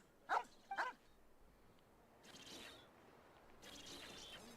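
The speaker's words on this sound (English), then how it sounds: "Oh, and the dog wasn't here before," A dog barks twice in quick succession in the open world of Genshin Impact, fairly close and loud at the start, followed by quieter ambient game sounds without further barking.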